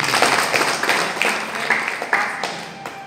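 Audience at a network-marketing business seminar applauding, a series of distinct claps in an uneven rhythm that thins toward the end, with faint talk mixed in.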